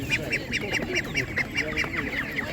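Ducks at a village livestock market quack in a quick, regular series of nasal calls, fairly close, over a low background murmur of the market crowd.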